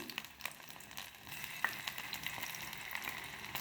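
Mushroom manchurian frying in a little oil, with a soft steady sizzle and light crackles plus the occasional stir, faint and close.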